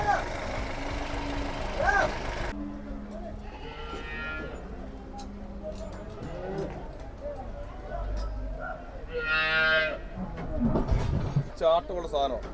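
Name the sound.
cattle calves mooing at a livestock market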